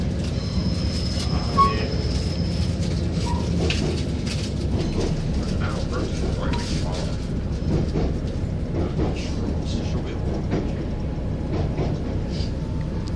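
A train passes a station with a rumbling, clattering roll of wheels and cars, a brief high squeal early on, steady and moderately close, with no talk.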